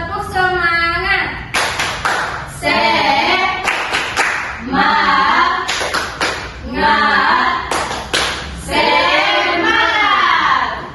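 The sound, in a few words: class doing a 'tepuk semangat' rhythmic clap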